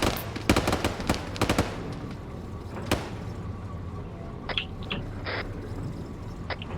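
Gunfire during an airsoft-style operation: a quick volley of sharp shots up front, then a single crack, followed by scattered fainter pops and clatter at a distance.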